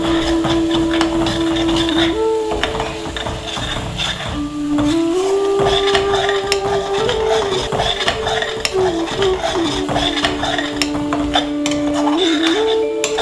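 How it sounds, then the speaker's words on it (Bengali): A spoon scrapes and clatters against a pan while raw banana kofta masala is sautéed with spices over low heat, producing repeated stirring strokes and metallic knocks over a soft sizzle, close and fairly loud, with no talking. "এবারে ভালো করে কষিয়ে নেব"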